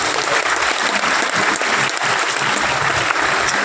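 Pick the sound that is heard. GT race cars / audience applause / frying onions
audience applause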